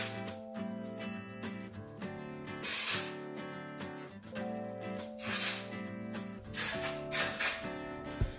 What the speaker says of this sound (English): Spraying it at my roots.